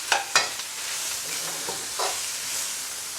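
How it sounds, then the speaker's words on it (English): A spatula stirs prawns frying in a hot pan, with scraping strokes cutting through a steady sizzle and hiss; two sharp clatters come early, then softer stirs and a brief scrape near the end. "So stir it a little bit more before we crack the egg"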